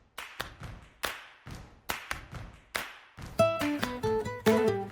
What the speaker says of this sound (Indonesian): Kita perlu tepuk-tepuk agar tidak ada air tersisa.